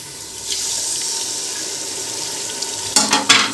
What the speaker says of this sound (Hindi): थोड़ा सा इसमें पानी शामिल करेंगे।